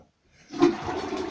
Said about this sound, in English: time to flush the toilet